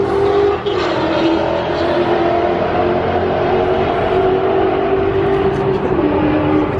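A loud car roars past close by, its engine droning steadily with a brief surge at the start, dense and continuous throughout with no one talking.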